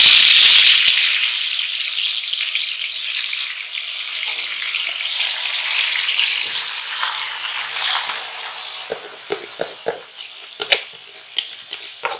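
Marinated chicken pieces sizzle loudly in hot oil in a kadai over a medium flame, a dense steady frying hiss that eases slightly after a few seconds, then settles with scattered pops and crackles toward the end.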